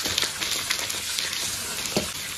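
Fish pieces sear in hot oil in a pan for Northern-style braised fish, a steady sizzle broken by a few sharper pops and stirring scrapes.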